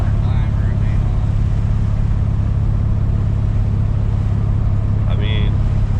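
An LS-swapped 1992 Mazda RX-7 FD with a partially collapsed lifter runs with a steady, loud low engine drone and uneven stutter, close by, while someone talks over it.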